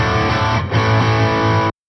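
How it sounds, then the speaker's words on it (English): A dry electric guitar played through a Boss GT-1000 with no effects rings out as a loud, bright sustained chord that cuts off abruptly with no reverb or delay tail. "which is just a dry guitar signal."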